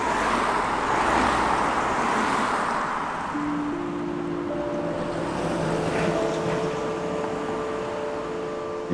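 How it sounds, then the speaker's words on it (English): Steady road traffic roar from passing cars, heard during a long countryside charity walk, a continuous broadband rumble with rising engine tones toward the end, fairly loud and constant with no talking. "car noise is the worst thing that you can have when you're walking."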